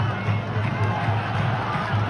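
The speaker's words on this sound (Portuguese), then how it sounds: "Enquanto isso, protesto aqui da torcida, a torcida deixando aqui o painão" Football crowd in a stadium protesting against the Remo club, a dense continuous roar of massed voices and chanting filling the whole stretch at steady loudness.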